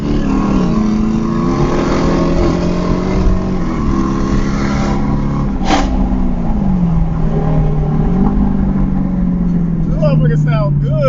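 A Hellcat's engine revs loudly and continuously beneath overlapping voices, the pitch climbing and dropping repeatedly as the car accelerates and shifts.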